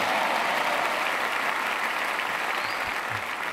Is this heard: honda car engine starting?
no